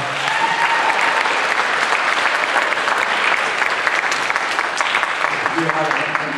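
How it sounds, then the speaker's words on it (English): Sustained applause from an audience honoring parents at a 4th grade graduation at Spirit Lake, steady dense clapping filling the room throughout, with a few voices faintly audible underneath. "give them all a huge round of applause for what they've done for us so far"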